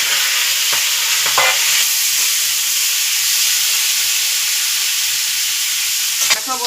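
Vegetables tipped into hot mustard oil already seasoned with bay leaf, five-spice seeds and dried chilli, giving a loud, steady, close sizzle throughout with a couple of brief clatters.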